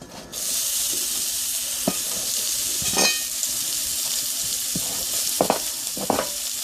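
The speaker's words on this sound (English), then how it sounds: "I'm going to drop in the onions" Chopped onions sizzle in hot oil in a pan for Caribbean-style curry lamb, a loud continuous frying hiss with a few sharp clinks and stirring knocks scattered through, no talk.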